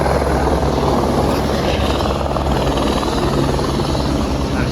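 A helicopter lifts off near a Himalayan village on the route back from Everest base camp, its loud, steady rotor and engine roar filling the air continuously up close.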